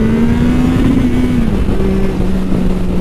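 A Triumph Sport 660 motorcycle engine on a track revs hard and sits at the rev limiter, a loud steady high-pitched drone that wavers slightly and then settles lower, with no voices over it.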